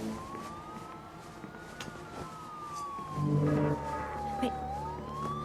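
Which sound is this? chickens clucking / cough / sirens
sirens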